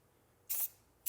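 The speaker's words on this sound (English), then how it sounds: "I'm just going to take this gray spray paint that I used earlier" Gray spray paint hisses from a can onto wood in two short bursts, the first about a fifth of a second long and a second one starting at the very end, close and alone in a quiet room.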